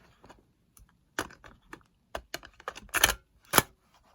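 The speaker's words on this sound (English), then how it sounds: "So we'll pop a tape in now." A cassette tape being inserted into a Sanyo MGP28 cassette Walkman, heard as a series of small plastic clicks and clacks, sharpest near the end, close and otherwise quiet.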